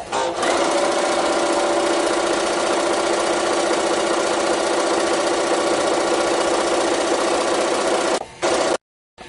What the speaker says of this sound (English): Here's Joe sewing on our Gidget 601 table at high speed.